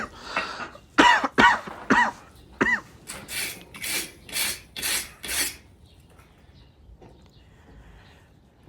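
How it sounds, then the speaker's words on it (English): Several short, harsh rasping strokes of a wire brush on a forged steel weld, close and distinct, arriving in an uneven series and then stopping, followed by quiet. "Brushing it just to see where my weld's set and see if I have any open."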